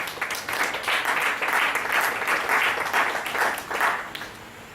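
A church congregation applauding after a sermon passage, a steady wash of many hands clapping that swells and then fades toward the end, with no one speaking.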